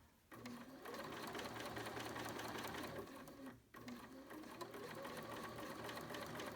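A BERNINA sewing machine fitted with a #88 bias binder attachment runs slowly over a face mask seam, a rapid steady needle clatter that pauses briefly midway before starting again.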